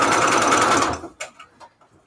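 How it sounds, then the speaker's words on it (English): A sewing machine stitching paper envelopes whirs loudly in one close, continuous burst for about a second. It then stops, leaving a few faint clicks and handling sounds. "See, that's the sewing machine right there."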